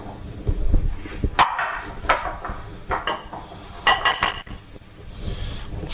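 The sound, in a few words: whisking batter in a bowl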